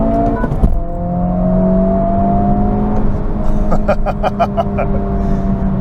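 A 2023 Honda Civic Type R engine pulls hard at full throttle during a night drive, a steady rising drone with a rumbling low end and a brief clicking burst, heard inside the cabin.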